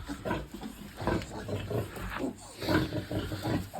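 Young piglets squeal and grunt in a farm pen around castration time, repeated harsh close-up cries in uneven bursts mixed with shuffling, while a person talks quietly.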